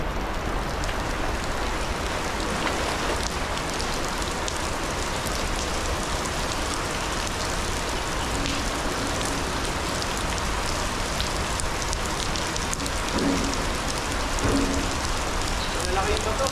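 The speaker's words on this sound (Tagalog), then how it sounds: "Maulan pa rin po dito." Heavy rain falls steadily through the whole stretch as a dense, even hiss that stays loud and unbroken, with faint bits of other sound now and then.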